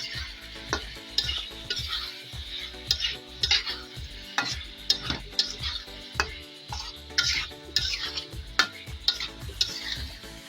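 Taro pieces being stir-fried in spice paste in a pan for a hilsa and taro dish: rhythmic scraping stirs and clinks over a soft, constant sizzle.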